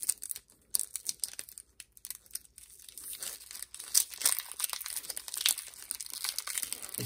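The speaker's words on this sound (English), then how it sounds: "I do really dislike the cellophane wrapping though. It's really tough to get into" Crinkly cellophane wrapping on a 1993 Stadium Club baseball card pack is picked at and torn open, giving bursts of close crackling and tearing with short pauses between them.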